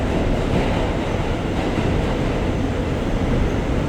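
An MTA R211 subway car on the A line rolls along with a loud, steady rumble and rattle heard from inside the carriage, with no voices.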